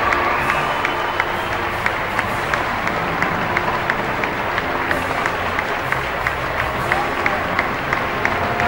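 A large crowd of about 2,400 cheers and claps continuously at a distance as the Pope arrives, a steady roar of voices and applause with no pauses.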